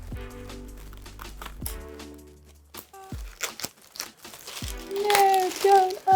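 Wrapping paper crinkles and rustles in short, close bursts as it is folded and cinched around a bouquet of flowers, with soft music playing underneath.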